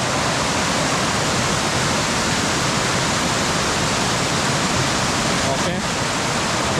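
Waterfall deep in a rainy forest, a steady, loud broadband rush of falling water filling the whole stretch without a break.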